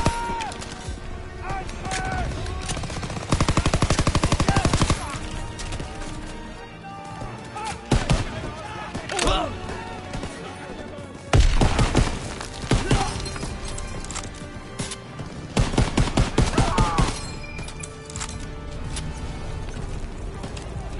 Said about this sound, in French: Bon, on va prendre une mitraillette.